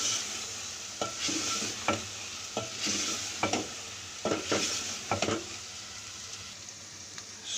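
Chicken and chickpea curry stir-fries in oil in a pot, with a steady sizzle under repeated scraping strokes of a spoon at an irregular rhythm, close and fairly quiet, no voices.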